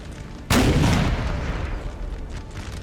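Artillery firing in a Napoleon: Total War battle: one sudden, loud booming blast a half-second in, followed by a long rumbling decay with scattered distant gunfire beneath.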